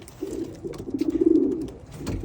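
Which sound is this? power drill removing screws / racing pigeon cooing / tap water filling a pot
racing pigeon cooing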